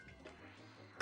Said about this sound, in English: Sorry, I had to cough.